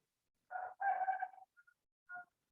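A rooster crows close by, a clear multi-part call, followed by a few short clucks in otherwise quiet surroundings.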